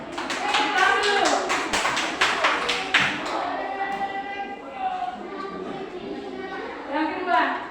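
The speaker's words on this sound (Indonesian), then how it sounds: "Oke, tepuk tangan dulu untuk Pepe. Tepuk tangan dulu." Classroom of children clapping together for a classmate, a burst of quick, bright claps in the first few seconds that fades into scattered taps, with a teacher and children talking over and after it.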